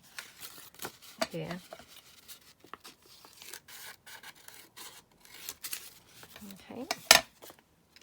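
Scissors snip and rustle through leftover print overspills and paper scraps in soft, scattered cuts and rubbing sounds, with a voice speaking briefly now and then.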